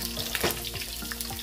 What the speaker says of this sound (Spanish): Una vez que ya nuestro aceite esté caliente, vamos a agregar nuestra cebolla para sofreírla.